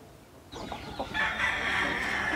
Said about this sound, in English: He's trying to catch that hen.